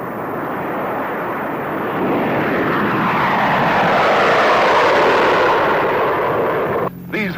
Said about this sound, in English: a B-36 and a B-47 will be in the air